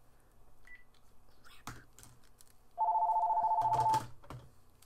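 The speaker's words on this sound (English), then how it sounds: "Okay, just disregard the phone." An office telephone rings once with a single steady electronic tone burst lasting about a second, close and clear, amid faint clicks and shuffling in an otherwise quiet room.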